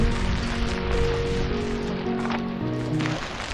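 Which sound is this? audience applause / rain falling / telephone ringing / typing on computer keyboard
rain falling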